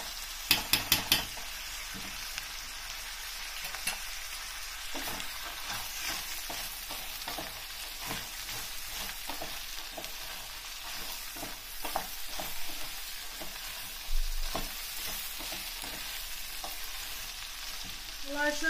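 Pepper paste and tomato paste frying in a pot for a chicken-broth soup, with a steady soft sizzle under repeated scraping and clinking of a spoon stirring against the pot, close and fairly quiet, no voices.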